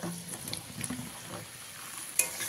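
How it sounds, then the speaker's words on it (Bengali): Potatoes and cut eggplant frying together in a pan for a bata fish curry, a soft steady sizzle with light stirring scrapes and a brief clink near the end. "আমি এখানে আলু আর বেগুনটা একসাথেই ভেজে নিচ্ছি।"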